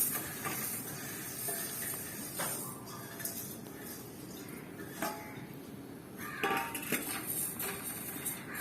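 Washed rice tipped into a heavy frying pan and roasting, giving a steady low hiss with scattered scrapes and clinks of a spoon against the metal, no talking.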